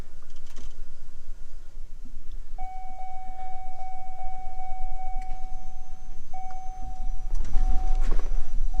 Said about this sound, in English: Pump's running.